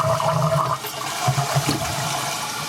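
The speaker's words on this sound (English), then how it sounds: "So we'll give her a test flush here." A household toilet, its flush lever rigged with a key ring as a makeshift fix, flushes in a steady rushing gurgle of draining water, close and alone with no talking over it.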